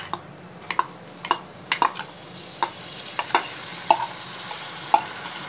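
Cooked chana dal being stirred in a pan for sundal, with a steady run of sharp spoon scrapes and knocks against the metal about once every half second over a faint background hiss.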